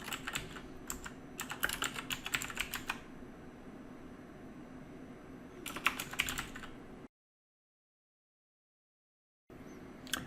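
Rapid keystrokes on a computer keyboard while a program is entered, arriving in quick clustered bursts with pauses between, close against a low room hum, then a brief dead gap.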